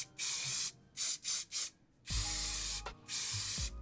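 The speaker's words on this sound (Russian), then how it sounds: "Берем нашу краску, хорошо трясем, почувствуем себя немного барменом и начинаем красить" Aerosol spray paint can hissing onto flowers in several bursts, three short puffs then longer steady sprays, close and loud, with faint handling clatter between them.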